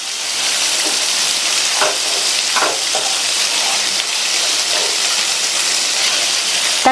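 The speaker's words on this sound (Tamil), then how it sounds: "இது கூட கொஞ்சமா உப்பு சேர்த்து வதக்கிட்டோம்னா இந்த தக்காளி நல்லா வதங்கி" Onion, green chili and tomato sauté with salt in a hot pan, giving a steady, loud sizzle and hiss, with a few soft scraping stirs and no talking.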